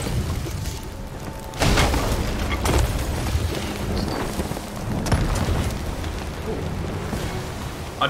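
A firebomb bursts during a video game ship battle, a sudden broad boom near 1.6 seconds that leaves a sustained crackling, rumbling roar, with further hits around 2.7 and 5 seconds over dense background noise.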